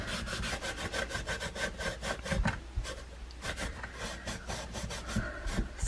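Wood stain being rubbed by hand onto a small wooden dollar-store Christmas tiered-tray craft, a steady run of close scrubbing strokes in a rapid back-and-forth rhythm with no talking.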